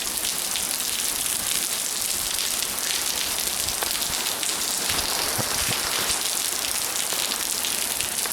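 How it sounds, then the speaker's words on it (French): Heavy tropical rain pours down steadily, a dense, loud, unbroken hiss of drops striking surfaces close by, with no voices over it. "C'est vraiment des vraies pluies tropicales"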